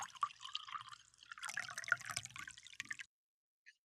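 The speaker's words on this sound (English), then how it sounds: "So grab your mug. Let's pour some tea today." Tea pours into a mug in a continuous watery trickle for about three seconds, faint and close, then stops, followed by a single tiny drip.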